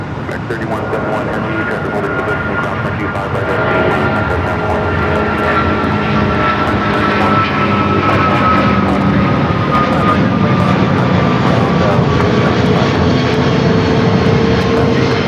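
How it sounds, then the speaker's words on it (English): An American Airlines Boeing 777-200ER jet takes off from LAX bound for Dallas Fort Worth, its engine roar loud and close, swelling steadily over fifteen seconds with a whining tone gliding downward through the rumble. "This is American Airlines 9785 taking off to Dallas Fort Worth on the 777-200ER."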